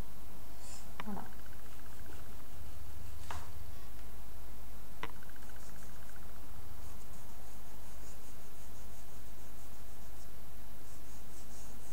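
Soft dry pastel crayon scratching across paper while sketching a horse, a few short, dry strokes in the first seconds, then near-quiet over a low steady hum.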